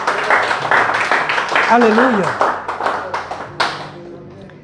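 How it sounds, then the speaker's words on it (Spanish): A church congregation claps for the Lord in a run of sharp, rhythmic claps, with a voice shouting and singing over them before the clapping thins out. "Bríndele un fuerte aplauso pues al Señor."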